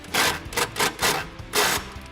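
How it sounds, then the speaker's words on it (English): Impact gun rattles in five short, loud bursts, tightening a bolt on a step bar bracket of a 2014-2018 Chevrolet Silverado. "we're gonna grab our impact gun here and work on that top bolt"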